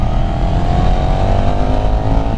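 KTM 1290 Super Duke R motorcycle engine revving hard in Track mode, a loud steady droning roar with rising harmonic pitch sustained throughout, no talk.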